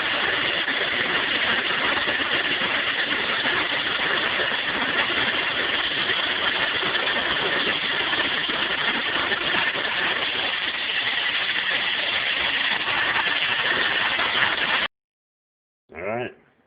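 A kitchen blender whips eggs into a frothy batter for chili relleno, a loud steady whir that holds for about fifteen seconds, then cuts off, followed by a short burst.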